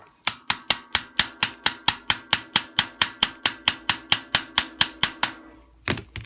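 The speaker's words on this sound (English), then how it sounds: "I'm just tapping this axle" Gentle, steady metal-on-metal tapping on the axle of a dirty Sturmey Archer bicycle hub, about twenty crisp, evenly spaced strikes close up, followed by a short pause and a couple of heavier knocks.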